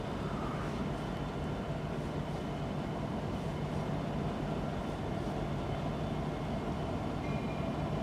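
CN M384, an eastbound train, passes through Port Huron, Michigan, with a steady, dense rumble and rail roar that holds at one loud level throughout, close by and without pause.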